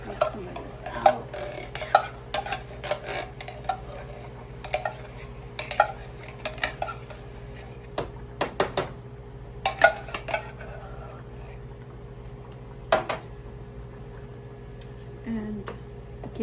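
A spoon stirs and scoops Texas chili in a metal pot, making irregular clinks and scrapes against the sides, some in quick clusters, over a low steady background hum.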